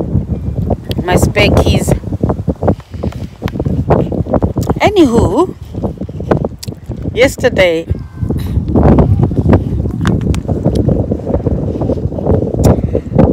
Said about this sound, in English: I probably won't post this if it's too windy, but I hope you hear it.